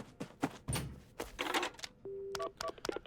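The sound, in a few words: phone dialing to call an ambulance, from video game Paranormasight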